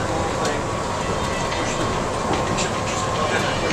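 Las Vegas Monorail train riding steadily into the Paris Las Vegas station, a continuous loud rumble and hum of the car with faint rail clatter throughout.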